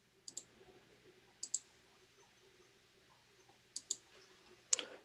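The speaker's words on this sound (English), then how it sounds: "if I wanted to count how many times I press the T key" Computer keyboard keys pressed one at a time, sharp light clicks arriving in small pairs with pauses between them, close and quiet against a faint room hum.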